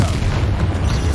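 Confringo spell blast in the Hogwarts Legacy video game, a brief, heavy low boom with rumbling body filling the moment, loud and close amid game noise.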